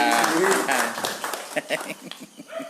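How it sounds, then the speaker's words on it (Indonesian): Clapping from a small gathering at a book discussion event in Bali, dense at first and then thinning into scattered claps, heard under and alongside people talking. "Tepuk tangan lo Agus nih. tepuk tangan"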